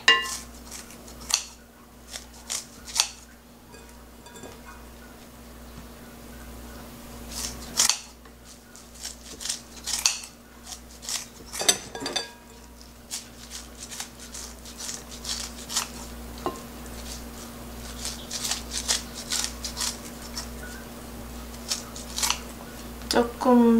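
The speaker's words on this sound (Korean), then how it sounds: "아니면 저처럼 한 단밖에 안 되는 거는 이렇게 가위로 뚝뚝 잘라주셔도 됩니다." Kitchen scissors snip through a small bunch of washed bitter lettuce greens (godeulbbaegi) for kimchi, making repeated crisp cuts in an irregular rhythm close by, with light clinks of dishes between them.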